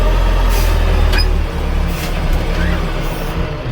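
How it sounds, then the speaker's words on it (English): Everun ER416T front end loader releasing its brake pedal, a loud steady engine and hydraulic rumble running throughout with a brief hiss of air near the start, the machine close and continuous. "just releasing that brake pedal"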